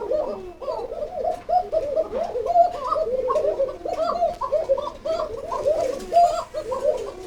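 Kokha pigeons cooing in cages at a pigeon farm, several birds giving overlapping, rolling coos in a steady, continuous chorus close by.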